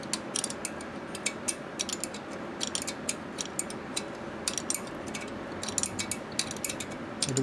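Rapid ratchet wrench clicking in bursts while bolts are worked on a 1979 93ci Harley shovelhead motor rebuild in a repair shop, busy mechanical clatter throughout at moderate level.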